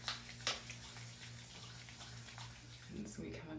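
Tap water runs steadily while hands are wetted during a nighttime skincare routine, a soft, faint continuous splashing with a brief burst near the start and a slight swell toward the end.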